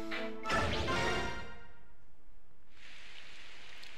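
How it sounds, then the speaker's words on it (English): In the video game Fire Emblem: Path of Radiance, a steady hiss of heavy rain sets in after a sharp crash, continuing evenly on its own to the end. "Oh goody, a downpour."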